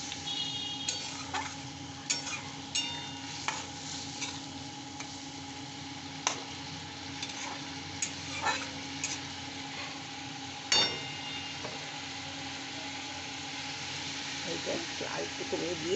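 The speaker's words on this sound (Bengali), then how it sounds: "সব একসাথে খুব ভালো করে কষতে হবে।" Spices and tomato paste being stir-fried in a pan, a soft steady sizzle broken by sharp ticks and scrapes of a spatula against the pan, close and quiet with little else.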